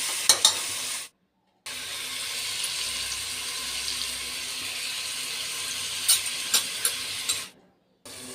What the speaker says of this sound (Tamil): தக்காளி நல்லா வதக்குங்க வதக்கும் போதே கொஞ்சம் உப்பு போட்டு வதக்குங்க